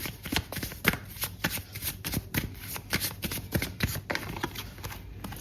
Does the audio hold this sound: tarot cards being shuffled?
yes